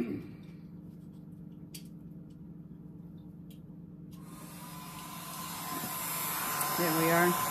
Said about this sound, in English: So I'm just drying it with a low heat